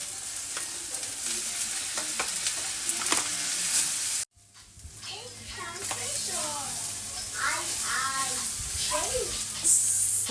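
Mushrooms sizzle in a hot pan after being seasoned with salt and black pepper, with steady frying hiss and stirring scrapes, close; a voice speaks over the cooking partway through.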